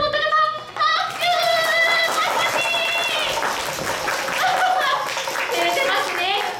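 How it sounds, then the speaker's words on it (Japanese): An audience at a year-end Kumamon stage show in Kumamoto claps in a steady, fairly loud burst lasting several seconds, mixed with excited voices and cheering throughout. "熊本のこと見てかわいいと思った方、拍手！"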